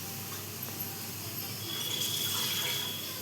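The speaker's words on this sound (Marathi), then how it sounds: "त्यात आपण थोडंसं पाणी टाकूया." A little water runs steadily into a dried-chili chutney in a kitchen, a soft continuous trickle and splash that grows slightly fuller toward the end, close and fairly quiet with no talk.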